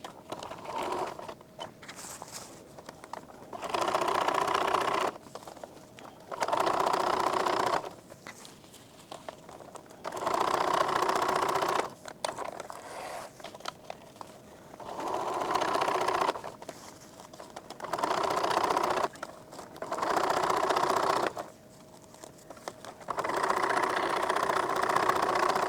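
Sewing machine stitching rows of shirring with elastic through a 36-inch wide piece of fabric, running in repeated loud bursts of a few seconds each separated by short pauses, with no talking.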